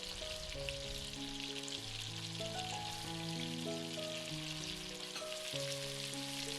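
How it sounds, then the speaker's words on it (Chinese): Chunks of salted, peppered beef sear in leftover bacon fat in a pan, giving a soft, continuous sizzle and crackle beneath gentle background music. "我们用煎完 bacon 的底油来继续煎牛肉。"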